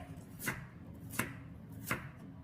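Three evenly spaced, crisp knife strokes come down on a cutting board as an onion quarter is thinly sliced. The chops are close and clear, with no talk over them.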